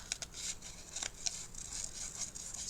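Scissors snip through paper while trimming a piece for a handmade recipe album, a series of quick, faint, close-up cuts with no talking.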